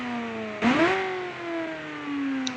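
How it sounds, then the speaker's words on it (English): A flat-plane V8 in the BeamNG driving game revs sharply once, then settles into a steady, loud, high engine drone with a smooth tonal whine, no voices. "flat plane V8 engine"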